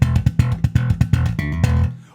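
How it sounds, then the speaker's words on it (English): A bass guitar plays a fast, percussive locomotive-style slap groove with fretting-hand slaps, giving a tight chugging rhythm of rapid punchy hits, close and loud, that ends on a sustained note before fading. "It's that secret sauce for getting that locomotive style slap groove that sounds like this."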